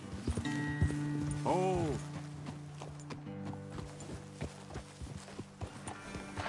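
Horses' hooves clip-clop at a walk in the open world of Red Dead Redemption 2, a steady rhythm close by, with a horse's whinny and some brief talk over it.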